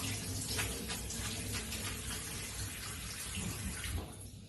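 Excess water draining off pasta in a colander, a steady splashing and trickling wash of water throughout, close and fairly loud, with no talk.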